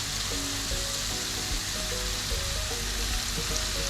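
Onions sizzle steadily in a hot pan with a pinch of salt, a continuous close frying hiss for Kerala-style kappa biryani, with no voices over it.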